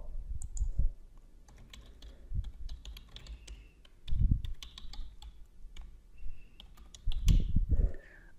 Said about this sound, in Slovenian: Članu vnesemo elektronski naslov tako, da kliknemo na gumbek e-obveščanje in vpišemo e-naslov.